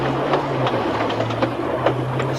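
A runaway train whose brakes have failed to apply, rumbling steadily with a low engine drone and a faint rhythmic clatter of wheels, loud and continuous with no talking.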